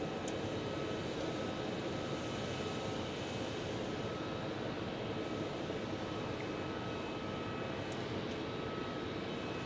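A jet arriving at Phoenix Sky Harbor from Puerto Vallarta gives a steady, loud engine roar with a constant whining drone, sustained throughout without talk.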